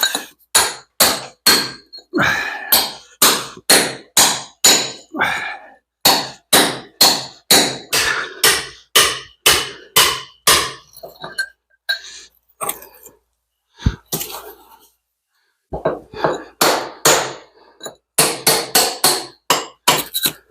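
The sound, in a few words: electric hammer and chisel breaking rubble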